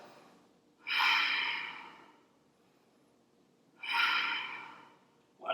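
Two deep, slow breaths during a yoga belly sequence, each a loud airy exhale close to the ear, separated by quiet pauses, with a third breath just starting at the end.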